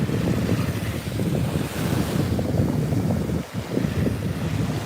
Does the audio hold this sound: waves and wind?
yes